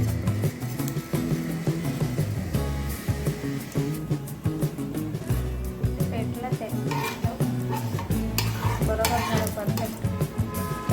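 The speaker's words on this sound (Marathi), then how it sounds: "तेल गरम झालेलं आहे तर आपण हे जिरं टाकून घेऊ" Cumin seeds sizzle in hot oil in a home kitchen while aloo vadi is being prepared in a rustic village style. The steady frying crackle runs throughout, partly masked by loud, continuous background music.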